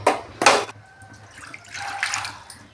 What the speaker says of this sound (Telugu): ఒక గ్లాస్ నీళ్ళు పోసుకో